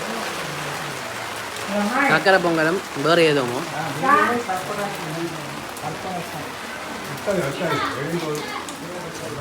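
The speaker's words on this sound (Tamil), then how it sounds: "மழை பெய்யுது" Rain falls steadily outdoors near a temple in the Tamil quarter of Kashi, a soft continuous hiss running beneath close conversation and children's voices.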